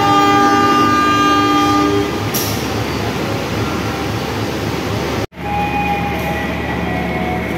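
A local commuter train pulls out of a station, opening with a loud horn blast, then a steady rolling rumble of wagons. A sharp dropout comes partway through before the rumble resumes.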